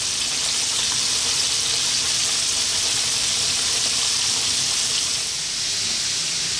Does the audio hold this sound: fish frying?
yes